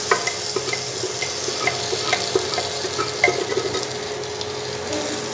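Mustard greens for sarson ka saag being stirred into fried onion and garlic in a pan over a high flame, giving a steady sizzle with scattered scraping and clicking of the spoon throughout, close and continuous with no talk.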